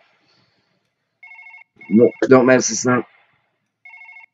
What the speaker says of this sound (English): Okay, we're gonna pick up the phone call.